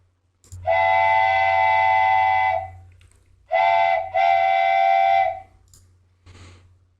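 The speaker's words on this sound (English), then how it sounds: "So I could just download this wooden train whistle" A hollow, breathy wooden whistle sounds twice: one long blast, a pause, then a second sustained toot with a brief dip, over a low hum.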